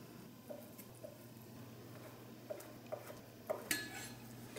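A knife slices thin strips of yellow and white egg garnish on a cutting board, giving a few light, scattered taps and cuts over a quiet kitchen hum, with no talking.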